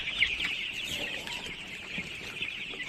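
Tiger-breed chickens cluck softly at close range, a few short calls scattered over a steady bright background hiss, with no talking.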